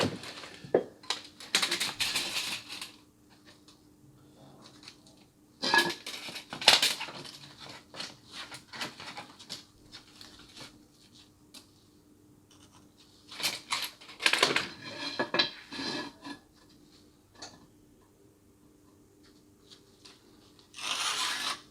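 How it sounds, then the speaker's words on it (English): A hammer strikes a bolster chisel to chip away at garden paving, with bursts of sharp scraping and chipping clusters separated by quiet pauses, close and outdoors. "using my hammer and bolster, I am going to chip away at it"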